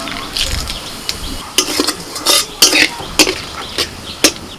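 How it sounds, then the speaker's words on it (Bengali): A tempering of bay leaf, dried chilli and whole cumin spits in hot oil, crackling in a run of sharp pops and bursts that grow more frequent, close up, with a soft scrape of stirring beneath. "তেলের মধ্যে ফোড়নে দিচ্ছি তেজপাতা শুকনো লঙ্কা গোটা জিরে"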